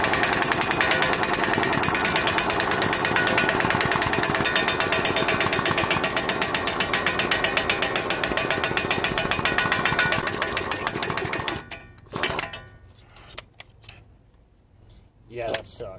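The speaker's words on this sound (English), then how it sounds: "the air compressor will pull everything with the impact till we burn the air compressor up" An air impact wrench driven by an air compressor rattles in a loud, continuous hammering burst while working on ball joints of an 05 Dodge Durango, stopping abruptly near the end, followed by brief talk and quieter noises.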